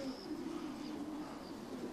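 A pigeon in a racing loft coos softly and steadily nearby, quiet and low, with no talk over it.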